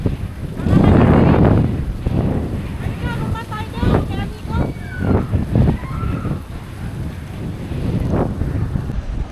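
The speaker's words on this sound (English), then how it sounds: "the window is just blowing up, so you're gonna hear a lot of wind noises right now" Strong wind buffets the microphone outdoors at a shopping centre in Puerto del Carmen, Lanzarote, making loud low rumbling gusts. People talk and chatter in the background and birds chirp faintly.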